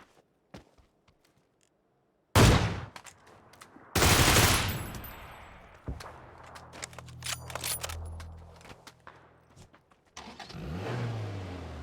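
A car in PUBG driving along, its engine revving and surging loudly amid bursts of gunfire and other game noises, with quiet stretches between, and no talk.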